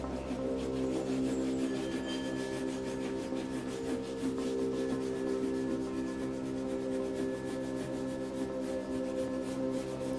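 Crayon lightly coloring across paper for a toddler weather drawing, a soft continuous rubbing scratch with quick back-and-forth strokes, close and fairly quiet, with no talk.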